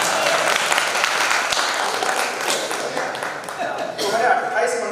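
Audience applause at a Hindi kavi sammelan poetry gathering in Ujjain: dense, steady clapping from a crowd fills the whole stretch, with a few sharper taps standing out and voices mixed in.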